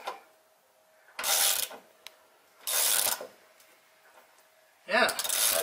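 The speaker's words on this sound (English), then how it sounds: "now I can ratchet right down on the Nylock, and my carriage bolt won't spin in the hole." Ratchet wrench tightening a Nylock nut onto a carriage bolt while attaching a stud wall to a steel beam; three loud bursts of ratcheting clicks, each lasting about half a second, separated by quiet pauses.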